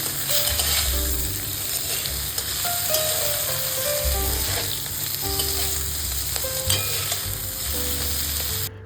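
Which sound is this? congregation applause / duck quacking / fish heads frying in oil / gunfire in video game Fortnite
fish heads frying in oil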